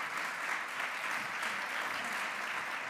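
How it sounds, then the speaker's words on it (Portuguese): An audience at a ceremony in Viseu gives a musical group of dentists, doctors and musicians a short, even round of dense applause that continues at a steady level. "Mais um aplauso para eles."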